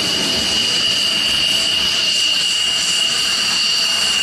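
A fighter jet engine roars loud and steady throughout, a constant whining rush with a high tonal edge and no pause or change in level.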